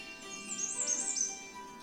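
Songbirds call and chirp along the Katy Trail, a string of high, fairly faint tweets rising and falling over soft outdoor ambience, with no one talking.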